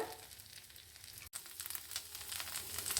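Steady oil sizzle from neer dosa frying on a hot pan as oil is poured around its edge, a continuous hiss with one brief dropout.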